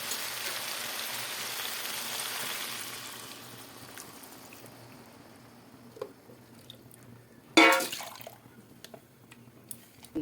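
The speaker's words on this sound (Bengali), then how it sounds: "এবার আমি জল দিয়ে দেবো।" Water splashes briefly into a pan of Bengali drumstick curry with poppy seed paste, one short loud pour against a quiet kitchen hiss and soft sizzling.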